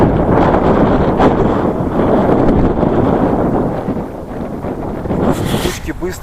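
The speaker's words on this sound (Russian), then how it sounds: "Ветер холодный." Cold wind blows hard across a microphone at about 2600 m in the mountains of Kyrgyzstan, a loud, continuous rushing buffet that eases slightly near the end.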